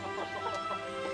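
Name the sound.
chickens clucking at feeding time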